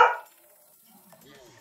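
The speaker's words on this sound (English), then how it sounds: "I don't know why the dog decided she was going to bark" A pet dog gives one sharp bark right at the start, close and fairly loud, then the room falls nearly silent apart from faint low murmuring.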